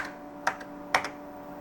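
A TRS-80 computer keyboard, a Model 1 or Model 4, being typed on in two quick pairs of close, crisp key clicks with a pause between them, over a faint steady hum.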